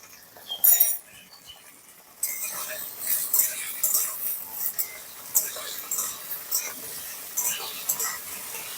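Cauliflower florets fry in oil over low heat while being stirred, with clinks of a utensil against the pan and a soft sizzle running underneath, without any talking.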